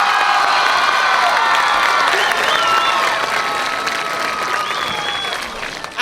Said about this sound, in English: Let's give Mr. Ziefel a round of applause.